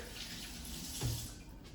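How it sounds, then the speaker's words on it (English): Hands are rinsed under a running kitchen tap, a faint, short, even wash of water with a slight splash partway through. "Let me rinse out my hands really quick."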